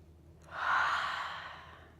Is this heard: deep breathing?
yes